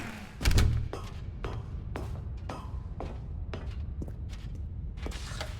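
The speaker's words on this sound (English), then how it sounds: "Stanley and the bucket walked straight ahead through the large door that read, Mind Control Facility" A large door in The Stanley Parable video game opens with a heavy low thud, followed by a series of hollow knocks and clunks spaced out over several seconds in a reverberant space.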